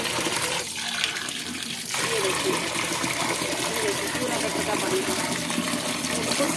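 Dirty sewer-like municipal water gushing from a tube connected directly to a motor pump in Delhi, a steady loud rushing pour throughout, with a brief dip near the start.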